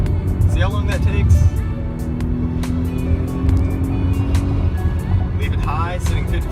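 A Eurocharged Mercedes-Benz C230 (W203) engine holds at high revs around 5,500 RPM, a loud, steady, droning tone with someone talking over it.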